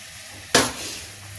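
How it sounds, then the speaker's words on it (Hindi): Fenugreek leaves hitting a hot pan with a sudden loud burst of sizzling that fades to a softer hiss over about a second. "तो अब हम इसमें डालेंगे ये अपनी मेथी"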